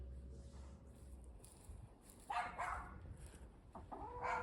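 Chickens cluck in a muddy backyard coop, a few soft calls rising over low rumbling background noise, with a louder burst of clucking in the second half.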